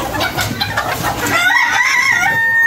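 Farm chickens clucking and squawking up close while eating live insects, a loud, continuous flurry of overlapping calls with a drawn-out crow-like cry toward the end, no talk.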